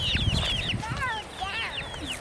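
Chickens cluck and chirp in short overlapping bursts nearby, with a voice talking underneath.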